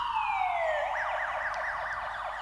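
Ambulance siren in the SimCity video game, a moderately quiet wail that glides down and then switches to a fast, repeating up-and-down yelp, heard alone without talk.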